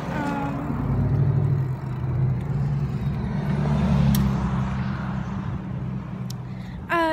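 A car in a park drives past some distance away, its low engine rumble swelling steadily and then fading, with faint background noise.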